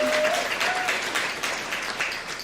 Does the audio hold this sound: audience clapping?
yes